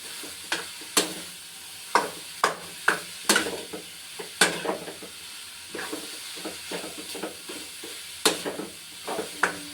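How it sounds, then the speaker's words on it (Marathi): Carrot halwa cooking in ghee over a medium flame is stirred repeatedly, with a steady soft sizzle beneath a string of sharp scraping and clacking strokes of a spoon against the pan, close up and fairly quiet. "याला पूर्णपणे आटेपर्यंत गाजर हलवून घेतो."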